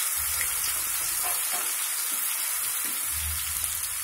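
Ginger garlic paste frying in hot oil for chicken pickle, a steady close sizzle and crackle with occasional stirring scrapes throughout.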